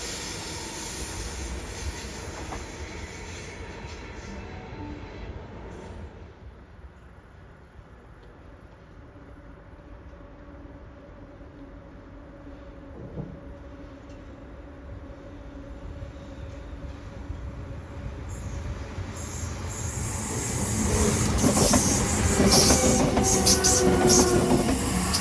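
Trains run past a station platform, first as a steady, fairly distant rumble with a high whine. Another train then approaches and roars by loudly near the end with clattering wheels and squeals.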